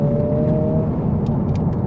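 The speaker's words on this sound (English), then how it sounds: "So just then in third gear, I put the accelerator almost to the floor." 2023 Honda Civic Type R accelerating hard in third gear, a steady, moderately loud engine drone with road rumble underneath, heard from inside the car for under two seconds.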